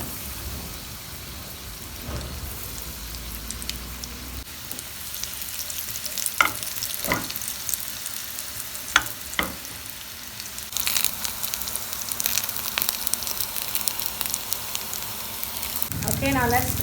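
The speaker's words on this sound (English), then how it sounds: "now we're gonna fry the cutlets in the oil" Vegetable cutlets fry in hot oil with a steady crackling sizzle throughout, a few sharp pops and spatters, and the frying growing louder and denser toward the end.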